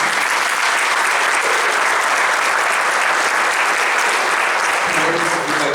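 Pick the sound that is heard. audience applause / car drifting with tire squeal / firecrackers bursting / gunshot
audience applause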